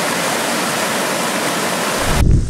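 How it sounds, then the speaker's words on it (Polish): A waterfall in the Tatra mountains roars with a steady, dense rush of falling water close by, then cuts off abruptly near the end into low wind-like rumble. "słychać szum spadającego wodospadu"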